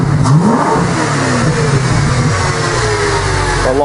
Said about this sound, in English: Shouldn't be revving it up that hard, but you know me, I'm the rev head.